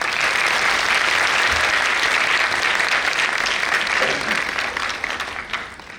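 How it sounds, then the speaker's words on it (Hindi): A live show audience gives loud, sustained applause, dense clapping that holds steady before tapering off slightly near the end. "तो जोरदार तालियां हो"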